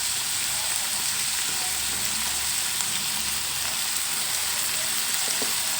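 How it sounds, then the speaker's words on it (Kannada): Onion fries with turmeric powder in a pan, giving a loud, continuous crackling sizzle up close, steady throughout with no speech. "ಈರುಳ್ಳಿ ಫ್ರೈ ಆಗೋ ಟೈಮ್ನಲ್ಲೇ ಸ್ವಲ್ಪ ಅರಿಶಿನ ಪುಡಿ,"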